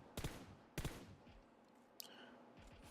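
Gunfire in the PUBG Mobile video game while scoped in and strafing at moving targets: two quick bursts of several shots each, a sharp metallic click, then faint rumble, all fairly quiet.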